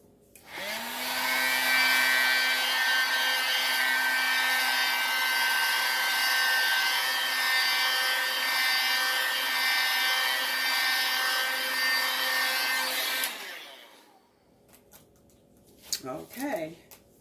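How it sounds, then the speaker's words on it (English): A heat gun blows steadily over a resin and acrylic pour, a loud continuous whooshing hiss with a steady whine that runs for about twelve seconds, then cuts off, followed by faint handling clatter and brief talk. "So what I have to use is a heat gun. So bear with me if it's making too much noise."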